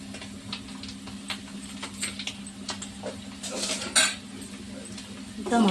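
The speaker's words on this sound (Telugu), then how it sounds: "మొత్తం కలిసేలాగా ఒకసారి కలపాలి" Chicken kandanakaya fry being stirred with homemade masala powder in a pan, a spoon scraping and clinking against the metal in quick irregular strokes, with a brief sizzle near the end.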